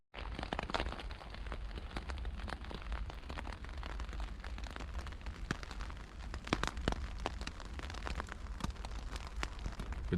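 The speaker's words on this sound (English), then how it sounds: "As you can hear, it's been raining. It's been raining all night" Rain falling all night on a bikepacking trip in Wales, a steady dense hiss of drops with sharper nearby splats scattered through it, with no voices.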